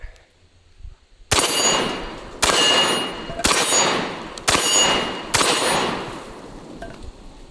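A Benelli M4 semi-auto shotgun fires double-aught buckshot, five loud, sharp blasts roughly one second apart, each with a short ringing decay and no voices.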